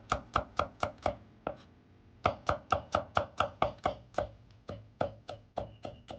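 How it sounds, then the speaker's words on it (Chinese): A knife chops garlic cloves into slices on a cutting board in a home kitchen, a quick run of crisp, evenly spaced close taps, a short pause, then another brisk series, with no talking. "大蒜几颗，把根部切掉不要，再切成蒜片"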